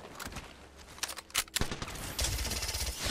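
Gunfire in the Apex Legends battle royale game, rapid bursts of automatic shots crackling close and loud in a short dense volley, with other shots mixed in and no speech.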